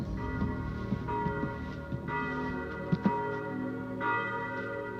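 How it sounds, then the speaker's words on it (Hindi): Church bells ring nearby, several overlapping peals with clear, sustained tones and fresh strikes every second or two, layered over a low background rumble and heard alone without speech. "गिरजाघर की घंटियां सुनाई दे रही हैं, लगता है पास ही है।"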